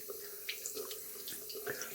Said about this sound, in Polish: Spróbuję spłukać nadmiar mydła z palców, ale to nie jest takie łatwe.